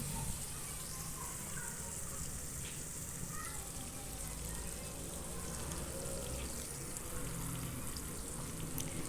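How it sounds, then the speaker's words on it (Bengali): Ginger-garlic paste fries in a pan, giving off a steady, even sizzle that stays at a soft level for the whole stretch, with no distinct stirring strokes standing out. "এবার দিয়ে দিলাম আদা রসুন পেস্ট এবার খুব ভালোভাবে একটু নেড়ে নেব"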